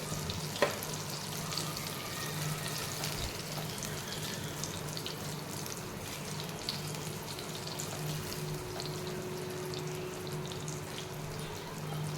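Fish frying in a pan of oil, a low, steady sizzle with faint crackles and a soft clatter near the start, fairly quiet throughout with no talking.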